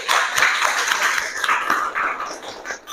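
Applause from a classroom group for student group 4 after a presentation, a brief burst of uneven clapping with scattered sharp claps that thins out toward the end.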